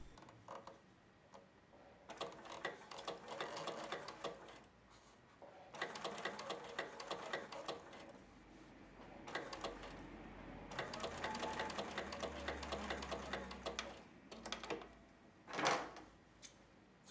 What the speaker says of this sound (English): Take advantage of your free arm sewing machine if you have one.